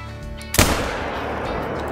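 A single rifle shot from a .243 rings out in a hunting video game, one sharp loud blast followed by a long rumbling decay over steady ambient background noise.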